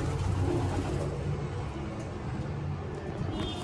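Young pigeons coo in soft, low, throaty bursts, close and overlapping, over a dense rumbling background with some faint higher chirps.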